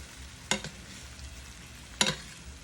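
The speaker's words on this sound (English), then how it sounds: "So now I'm gonna start basting it" Steak frying in a frying pan while being basted, a low steady sizzle broken by two sharp spoon-and-pan clatters about a second and a half apart.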